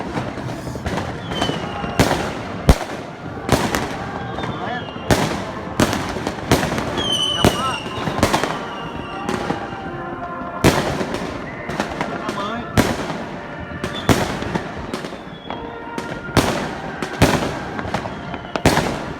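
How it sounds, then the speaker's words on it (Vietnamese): Fireworks over Hanoi crack and boom in a rapid, continuous series of loud bursts, with crowd voices and chatter underneath. "Trời pháo hoa."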